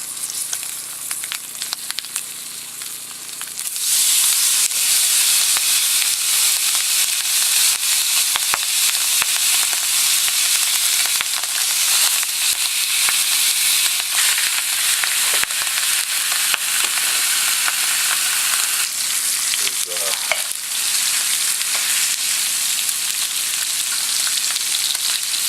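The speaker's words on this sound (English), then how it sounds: "there's that sausage in there, let's get that in there. And we'll get our bacon in at the same time too." Sausage and bacon frying together in a pan, a dense, loud, continuous crackling sizzle that swells after a quieter start and holds steady with occasional faint clinks, no voices over it.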